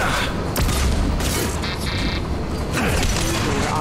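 Gunfire in Mass Effect 2 Legendary Edition, loud bursts of weapon shots and booming impacts with metallic mechanical clatter over a dense, sustained battle din.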